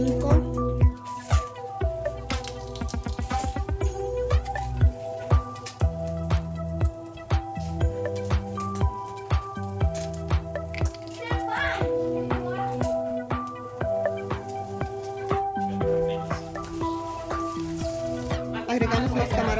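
Five garlic cloves frying in hot oil, a soft crackling sizzle with small pops and drips, fairly quiet and steady throughout with no speech.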